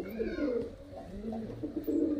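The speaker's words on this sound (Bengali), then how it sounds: "খুব সুন্দর গেট আপের পায়রা দেখতে পাচ্ছেন ফ্রেন্ড" Giribaz highflyer pigeons coo in low, throaty rolling calls that repeat through the moment, close by with no voices.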